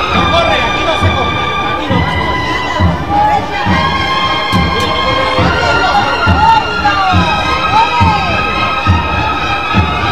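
A large crowd of spectators at a Palm Sunday Holy Week procession in Jerez breaks into sustained, loud applause and cheering, a dense continuous wash of clapping with shouts mixed in and band tones faintly ringing beneath.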